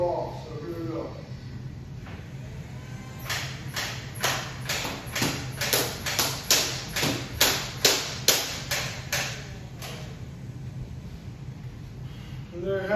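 A heavily modified Nerf blaster fires a rapid burst of about a dozen sharp, close snapping shots with a steady rhythm, then stops, with a low hum running underneath.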